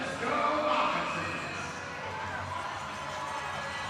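Hockey arena crowd at a Monroe Moccasins versus Carolina Thunderbirds game, a broad steady roar of cheering that swells near the start and then holds at a lively level throughout.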